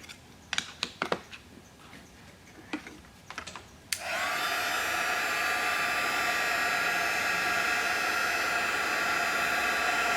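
A heat embossing tool melts embossing powder on a thank-you card, starting with a click after a few light taps and handling knocks, then a steady loud blowing whir that continues to the end.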